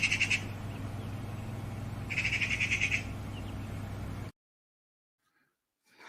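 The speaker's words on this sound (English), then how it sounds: "You probably know this very well, the magpies." Magpies chatter in two harsh, rattling bursts, one brief at the start and a longer one a couple of seconds later, over a steady low background hum that cuts to near silence, then a faint return.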